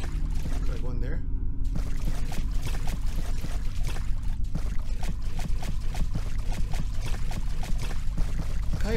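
Repeated splashes and sloshes of water in a horror video game set in a closed mall, a continuous wet rhythmic churning like footsteps through water, with someone talking over it.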